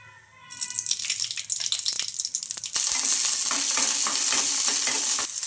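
Green chillies, ginger and garlic frying in oil in a kadai, a loud close hiss that swells as oil goes in, settling into a dense, steady sizzle with occasional stirring taps and no talk.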